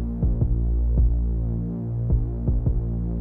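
Kick drum and bass in a muddy mix with boosted low end, deep thumping beats over a droning bass hum, no voices.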